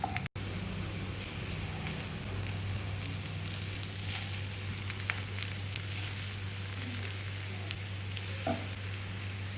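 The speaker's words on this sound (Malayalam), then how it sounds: "ചെറിയ തീയിൽ നല്ല ബ്രൗൺ കളറാകുന്നവരെ നമുക്കതിനെ വറുത്ത് എടുക്കാം" Grated coconut roasts in coconut oil over low heat for a Kerala beef curry, giving a steady soft sizzle with faint stirring scrapes, continuous and close, with no talk.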